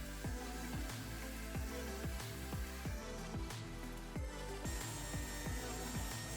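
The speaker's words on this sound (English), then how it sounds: "we can cut it from the remaining plywood" A saw cuts through plywood in steady back-and-forth strokes, dense and loud, about two strokes per second, close to the listener with no voices.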